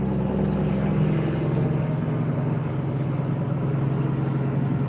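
An old, fully loaded heavy truck rumbles loudly nearby with a deep, steady engine drone that holds for the whole stretch.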